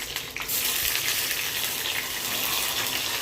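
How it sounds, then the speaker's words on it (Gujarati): Curry leaves and green chillies hitting hot oil with mustard seeds, a loud hissing sizzle bursting in and holding steady at close range. "આપણે લીમડો મરચાં નાખી દેવાના"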